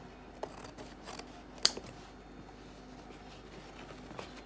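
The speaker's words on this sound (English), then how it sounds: "Now I will have to trim out the excess like this" Scissors snipping away excess fabric at a seam, faint close crisp cuts with one sharper snip, in a quiet room with no talk.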